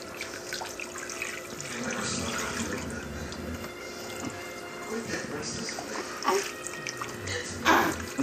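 Shower water runs in a continuous close hiss and splash during a baby girl's first bath, with people talking over the flow and a few brief louder splashes.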